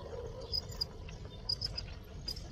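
Crickets bred as bait for quail, giving faint, high, intermittent chirps over a low background hum, heard alone.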